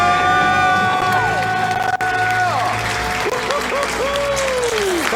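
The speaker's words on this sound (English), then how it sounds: "Let's hear a debt-free scream!" A loud audience cheers and screams in celebration, with applause, whoops and excited shouting filling the whole stretch at close range.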